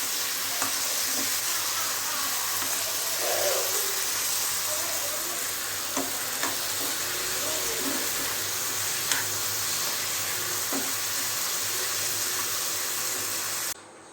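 Onions and tomatoes sauté in a pan for onion chutney, giving a steady, close hiss of frying with occasional light pops and stirring scrapes before cutting off abruptly at the end.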